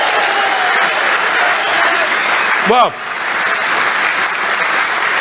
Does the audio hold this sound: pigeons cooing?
no